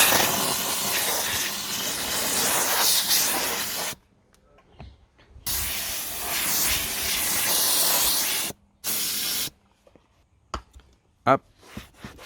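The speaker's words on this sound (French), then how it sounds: "La vapeur donc dissout carrément le truc, hein." A Karcher SC3 steam cleaner blasts loud hissing steam in long sustained bursts, cutting off abruptly between them, with short spurts and faint clicks near the end.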